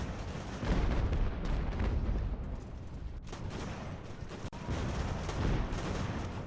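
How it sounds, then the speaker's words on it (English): Volleys of carbine fire from 18th-century militia and Hessian units in the naval and land battle game Ultimate Admiral Age of Sail, at Savannah, heard as a dense, continuous roar of overlapping musketry with brief dips. "Oh, the sound of those carbines"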